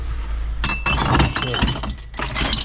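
Glass shot glasses decorated with little cars clink and knock together as they are handled while dumpster diving at night, a few bright chinks rising over background noise and voices talking.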